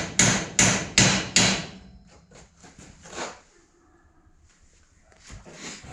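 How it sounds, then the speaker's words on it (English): Four loud, evenly spaced hammer taps ring out on race car metal up close, followed by quieter scraping and faint knocks. "I'm going to give this a light few taps with a hammer"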